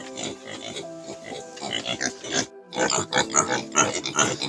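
Native pigs on a farm grunting and oinking in quick overlapping bursts, close and fairly loud, with a brief pause midway.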